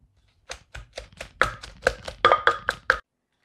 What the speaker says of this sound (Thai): ตามด้วยพริกค่ะ ก็จะ นี่ค่ะ หั่นเป็นชิ้นๆ จะได้โขลกได้ง่ายๆ นะคะ